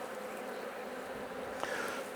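Honey bees buzz steadily around an open Langstroth hive during an inspection, a faint, continuous drone with no voices.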